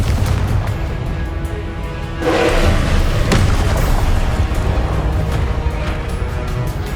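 Confringo blasting spell in Hogwarts Legacy, a loud booming blast that swells around the two-second mark and rolls on as a thick, sustained rumble amid dense game noise.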